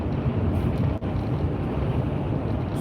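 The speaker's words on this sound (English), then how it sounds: "Sounds like it's pretty windy out there" Strong wind blows outdoors on a cold night of 22 degrees, a loud, unbroken roar that buffets the microphone throughout. It dips for a moment about a second in, and no voices are heard.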